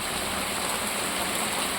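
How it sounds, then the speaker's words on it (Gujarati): Heavy rain pours down in a steady, dense broadband hiss with no break, loud and close, like a downpour drumming on surfaces outside. "જોરદાર વરસાદ"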